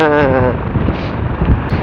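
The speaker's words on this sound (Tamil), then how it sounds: "அப்பா காற்று என்ன அடி அடிக்குது" Loud, blustery wind roars against the microphone with a steady rumble in the hills around Anaikatti, India, and a brief voice-like hum appears at the start.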